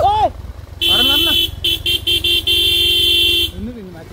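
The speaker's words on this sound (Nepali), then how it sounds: "हर्न मार्न" A vehicle honks on a hillside trail road near a school, with a long blast, then several short toots, then another sustained blast. Voices talk loudly around the honking, which sounds close.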